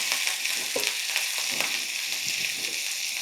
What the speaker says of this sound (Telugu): పచ్చిమిరపకాయ వేసేస్తున్నా.